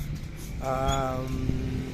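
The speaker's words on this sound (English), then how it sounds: "I'm really sorry about these motorcycles, but it is what it is" A motorcycle engine drones nearby in Mexico, its pitch rising and falling briefly as it passes, with a steady low rumble underneath.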